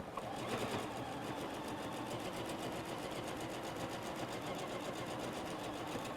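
A sewing machine runs continuously, stitching down the side of a fabric oven mitt with a fast, even mechanical whir that stays fairly quiet and steady throughout.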